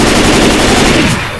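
Loud rapid automatic gunfire in Left 4 Dead 2 bursts continuously at close range, a dense rattling volley lasting just over a second before tapering off.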